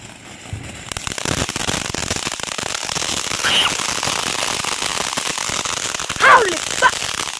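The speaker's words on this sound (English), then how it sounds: "You just have to tell Uncle Harold to buy you some fireworks." Fourth of July fireworks and firecrackers going off: rapid crackling pops and bangs in dense strings, fairly close and loud, with voices chattering and exclaiming over them and a sharper burst near the end.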